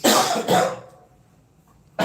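Two quick, fairly loud coughs close together from a person with a cold, followed by quiet and then the start of a third cough at the very end.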